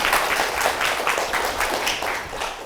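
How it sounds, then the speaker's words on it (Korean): Audience applause fills a hall at the close of a public science lecture on restoring lost senses, a dense, steady clapping from a sizable crowd that holds at an even level throughout. "오늘 함께 해주신 변경민 교수님께 다시 한번 큰 박수 부탁드리겠습니다."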